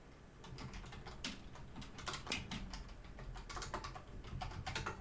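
Steady computer keyboard typing fills the whole stretch, close and fairly soft, with irregular bursts of key clicks and a few sharper presses standing out, no voices over it.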